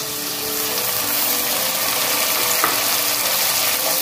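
Onions and tomato for vegetable biryani sauté in a hot pan, making a loud, continuous close sizzle with the occasional scrape of stirring.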